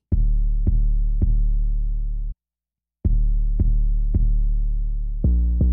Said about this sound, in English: This is what the 808 sounded like with nothing on it.